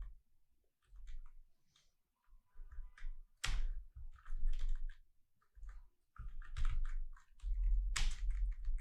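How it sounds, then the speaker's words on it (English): Bursts of typing on a computer keyboard while entering text into a web page's body, with key clicks coming in irregular clusters separated by short pauses, close and fairly clear. "let me type the same things in our body"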